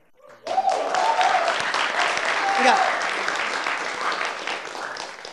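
Loud, dense applause from a studio audience at a televised talk show starts abruptly and sustains steadily, with a brief voice speaking under the clapping near the start.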